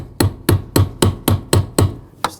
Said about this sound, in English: Use a brass punch and a hammer.